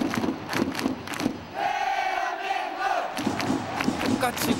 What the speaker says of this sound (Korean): 똑같이 박자 맞춰 함성을 지른다.